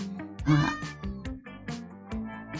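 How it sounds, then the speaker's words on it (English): A house cat meows repeatedly at close range, a string of short, vocal mews and chirps with brief pauses between them, standing alone with no talking. "My cat's being real mouthy today, so y'all might actually be able to hear her."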